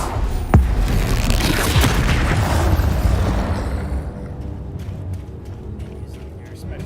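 Confringo spell blasts in the Hogwarts Legacy video game, a loud booming explosion with rumbling debris that fades into scattered crackles and clicks, under a player's voice.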